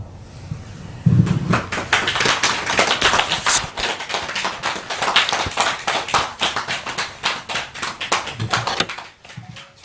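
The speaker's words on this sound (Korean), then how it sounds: "두 분한테 한번 박수 한번 크게 하고." A gathering at a Buddhist organization's award ceremony breaks into loud, close applause that starts suddenly and rolls on for several seconds with uneven sharp claps before fading toward the end.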